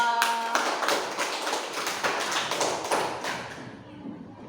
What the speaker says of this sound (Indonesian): Kasih tepuk tangan buat Mas Alfa